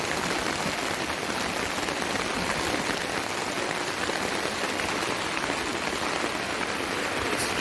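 Heavy rain pours steadily at a campsite, a dense, loud, unbroken hiss of downpour with no voices for the whole stretch.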